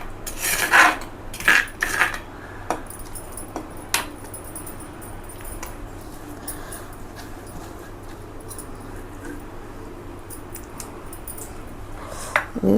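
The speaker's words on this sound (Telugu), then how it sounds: "ఇదిగోండి ఇలా కచ్చపిచ్చగా దంచుకోండి, చాలా బాగుంటుంది." Ivy gourd chutney is coarsely pounded in a stone mortar, with a few sharp scraping and grinding strokes early on, then a low, steady rubbing under quiet room noise.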